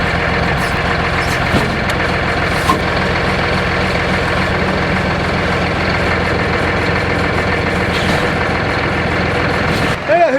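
A Cat D8 bulldozer runs steadily while pulling a stump, its heavy diesel engine rumbling loud and close for the whole stretch, with only small bumps in level and a brief change near the end.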